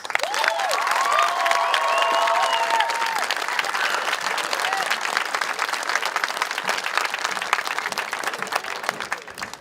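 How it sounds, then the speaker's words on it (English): Closing round of applause for award recipients at a JROTC awards ceremony, a loud crowd clapping with some cheering and whistles early on, then settling into steady clapping that continues throughout. "Let's have one final round of applause for our award recipients."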